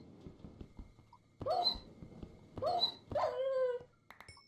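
A tamed dog being killed in the Minecraft FTB Horizons modpack gives about three sharp, high, whimpering yelps in quick succession, close and clear over a quiet background.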